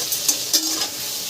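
Spatula stirring chopped bottle gourd seasoned with salt and turmeric in a pan, a few scraping strokes over a soft steady sizzle, close and moderately loud.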